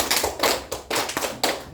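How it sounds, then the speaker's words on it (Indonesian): An audience at a work-performance review session claps hands together in counted bursts, several short rhythmic rounds of clapping separated by brief pauses, close and fairly loud. "izinkan saya mengajak untuk bertepuk tangan bersama"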